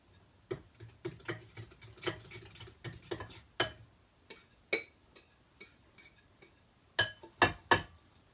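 Mashed bananas being stirred into batter in a bowl, soft irregular clicks and taps of the utensil against the bowl, quiet and close with brief pauses between strokes.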